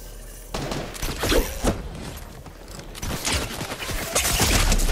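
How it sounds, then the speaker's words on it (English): Rapid bursts of gunfire from the video game Fortnite, with clustered shots and sharp cracks over a mechanical clatter, loud and close across the whole stretch. "Who the fuck is shooting at me?"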